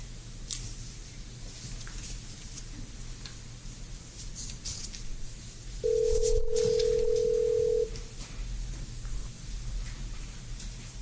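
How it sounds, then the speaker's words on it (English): A steady telephone dial tone rings out for about two seconds over a low background hum, with no voices during the tone. "I think I'm going to be dialing the wrong number,"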